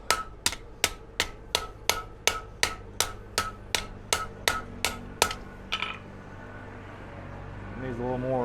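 Rapid, evenly spaced hammer blows ring out on an anvil as steel is forged: about sixteen sharp, loud, close strikes over six seconds, then the hammering stops and a low hum and faint ringing remain.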